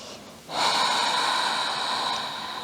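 A single deep, audible inhale, drawn in through the nose during a gentle morning yoga stretch, rises sharply and holds steady for about two seconds, close to the microphone and alone.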